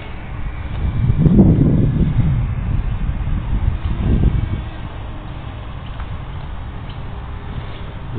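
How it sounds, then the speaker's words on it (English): Strong wind buffets the microphone outdoors beside a row of trees, with loud low rumbling gusts around the first two seconds and again near four seconds, then settling into a steadier, softer roar. "because it is very windy"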